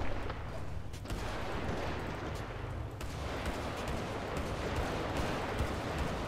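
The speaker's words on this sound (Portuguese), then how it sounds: "Dando tiro pro cara sair fora" Gunfire in the GTA RP video game, a dense barrage of rapid shots and sharp bangs rolling continuously for several seconds, loud and close with a steady rumbling backdrop.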